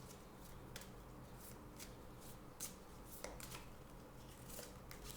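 Tarot cards shuffled and drawn for a reading, a steady close run of soft papery riffling and flicking with a few sharper snaps, with no talking.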